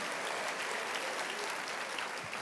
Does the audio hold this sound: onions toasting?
no